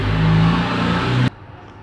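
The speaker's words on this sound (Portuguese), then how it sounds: "Eu moro perto de uma rua aqui que passa bastante carro e faz muito barulho." A car engine whirs and revs loudly on a nearby street, a steady hum that cuts off abruptly after about a second and a quarter, leaving quiet background.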